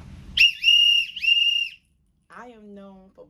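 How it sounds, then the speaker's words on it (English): A handheld whistle gives two loud, shrill, sustained blasts close by, followed by a short vocal sound. "I am known for blowing the whistle."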